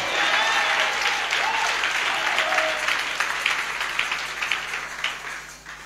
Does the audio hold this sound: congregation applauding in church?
yes